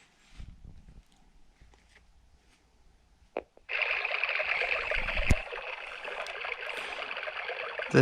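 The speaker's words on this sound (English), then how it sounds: "This has a few different sounds. This is the brook sound." Brook nature sound from a Timex T234S alarm clock radio: after quiet handling noises, a steady burbling, hissy stream of trickling water starts abruptly and runs on continuously, fairly loud and alone.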